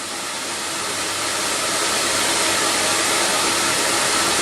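A CamVac CGV286 workshop dust extractor runs with a loud, steady broadband roar that swells slightly at first and then holds constant, heard close with no voices.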